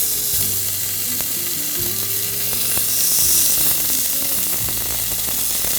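Meat sizzles in an oiled pan heated on an LG Dios induction hob, a loud, steady hiss of frying with crackles and pops, plus occasional scraping and clinking of utensils against the pan close by.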